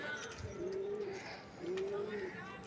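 A pigeon for sale gives two soft, drawn-out coos about a second apart, close but fairly quiet over a low background rumble.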